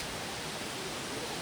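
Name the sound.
water flowing under the living root bridge, Mawlynnong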